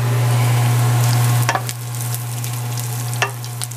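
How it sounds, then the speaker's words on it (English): Tomato paste is stirred into noodle soup frying in a pot, giving a steady sizzle with a low hum and a couple of sharp scraping clinks of the spoon. "you just kind of stir that up in there"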